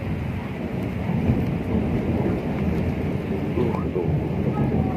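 Steady heavy rain pours down with low rumbling thunder rolling through, a dense continuous wash of sound heard from indoors during a meal, with a few voices faintly underneath.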